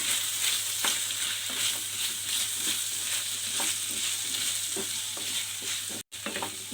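Coriander powder, chilli powder and garam masala being stirred into a hot pan for a potato and capsicum palya: a steady, fairly loud sizzle with repeated scraping strokes throughout and a brief drop near the end.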